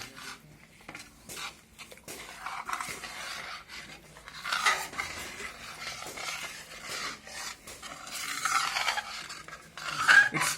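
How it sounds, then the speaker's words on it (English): Tomato puree stirred into makhani gravy in a cooking pot, with soft continuous scraping and rubbing of a spoon against the pan, close and fairly quiet, with no talk. "Now we will mix together by preventing lump formation."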